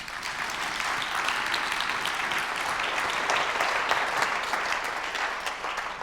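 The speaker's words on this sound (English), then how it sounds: "I wasn't sure how long the applause would last, so I anticipated it." A conference audience at the RTS London 2022 keynote gives Lord Grade a warm welcome, with dense, sustained applause from many hands that runs steadily for several seconds.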